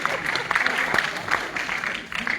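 An audience at an Indian award ceremony and poetry event claps in uneven bursts, a crackling patter of applause that rises and dips over a couple of seconds with no speech.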